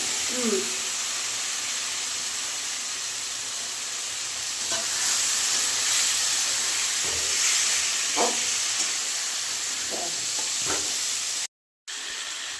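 Pieces of taro hit hot oil in a pan and set off a steady, bright sizzle. Soft stirring taps and scrapes come through the hiss, which cuts out briefly near the end.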